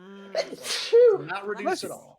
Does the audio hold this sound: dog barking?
no